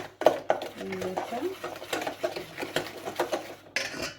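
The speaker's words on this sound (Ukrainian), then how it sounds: "потрібно збивати, просто розмішати цукру" A spoon stirs sugar into cake batter for a cherry pie in a bowl, giving soft repeated scraping and light clinks against the side, close by with someone talking over it.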